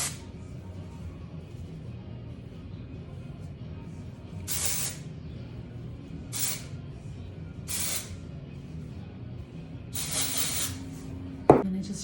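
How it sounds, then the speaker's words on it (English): Puff Me dry texturizing spray hissing onto hair roots in four short bursts, close and fairly loud, the last longest, over a quiet room with a small knock near the end. "I will just take this Puff Me dry texturizing spray, and I'll just put a little bit at the roots for some body"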